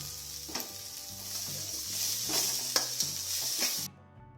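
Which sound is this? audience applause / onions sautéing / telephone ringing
onions sautéing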